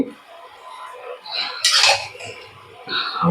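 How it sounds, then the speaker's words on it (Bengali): Garlic paste being stirred into mutton pieces in a metal pot for an aloo mutton curry, with scraping and clinking of a spoon against the pot in short bursts, briefly louder midway and again near the end. "এবার রসুনটা একটু মিশিয়ে নেবো মাংসের সাথে"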